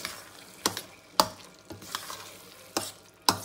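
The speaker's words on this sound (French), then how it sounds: "On mélange le tout" Pumpkin risotto stirred in a pan, a spoon scraping through the rice in repeated sharp strokes about once every half second over a soft, steady sizzle, close and alone.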